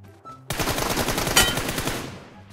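A burst of rapid automatic M4 rifle fire in the mobile game PUBG Mobile, a dense fast rattle of shots lasting about a second and a half, loud and close with a fading tail.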